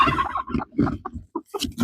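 Several chickens clucking close by in short, choppy bursts, with a few higher squawks toward the end.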